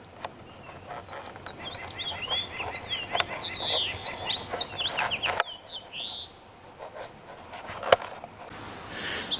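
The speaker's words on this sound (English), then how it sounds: "the birds are having a good time with those" Birds around backyard feeders in a snowy Maine spring chirp and twitter in quick, bright bursts, moderately near, with a few louder single calls against a quiet outdoor background.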